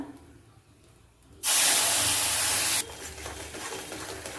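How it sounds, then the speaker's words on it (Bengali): Spice paste of green chilli, ginger and onion hits hot oil with a loud, sudden sizzle that roars steadily for about a second and a half, then drops to a softer, ongoing crackle and fry. "মশলাটা কিছুক্ষণ ভাজা ভাজা করব।"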